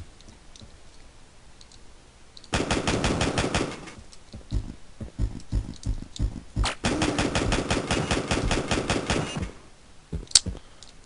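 Rapid automatic gunfire in the video game Backtrack, two sustained bursts of fast, evenly spaced shots, each lasting several seconds, separated by scattered single shots and clicks, fairly loud with no talking.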